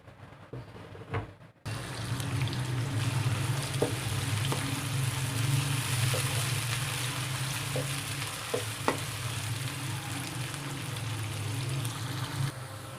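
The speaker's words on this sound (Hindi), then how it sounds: "प्याज को 2 से 3 मिनट भुनेंगे।" Roughly chopped onions fry in hot oil in a pan, a continuous close sizzle with a few stirring clinks and scrapes, after a short quieter start.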